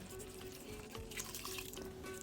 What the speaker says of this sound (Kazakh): Үстінен су құйыңыз.